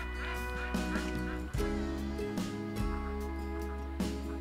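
Ducks quack and honk in short, repeated bursts close by on a homestead, several calls overlapping against a steady low hum.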